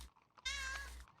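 A cat gives a single clear meow outside a house, near and fairly quiet, with faint background sound before it and no talk.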